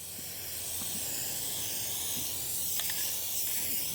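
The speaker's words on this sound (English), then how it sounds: "on with the spray glue" Aerosol can of spray glue sprayed outdoors in a steady, continuous close hiss that lasts the whole stretch, with faint scattered background noises.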